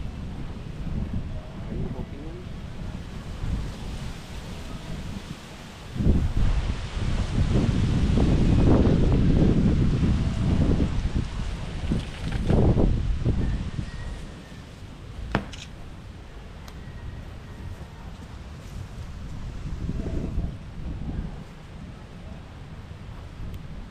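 Strong wind buffets the microphone in heavy gusts, roaring loudest in the middle stretch before easing to a steadier rush.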